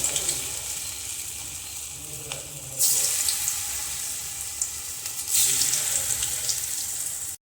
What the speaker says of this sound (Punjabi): ਤੇਲ ਗਰਮ ਹੋ ਗਿਆ ਸੀ ਹੁਣ ਆਪਾਂ ਇਹਦੇ ਵਿੱਚ ਕੋਫਤੇ ਪਾ ਦਵਾਂਗੇ